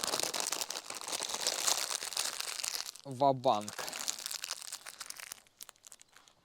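A plastic bag of coriander groundbait for fishing crinkles and rustles steadily for several seconds, close and fairly loud, with someone briefly speaking in the middle and the crinkling thinning out toward the end.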